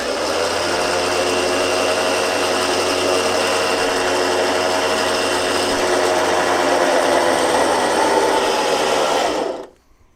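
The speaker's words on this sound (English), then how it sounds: "So now we're ready to winch." An off-road vehicle's electric winch pulls in its line with a steady, loud, high-pitched whine and motor hum that runs unbroken for about nine seconds, then stops abruptly.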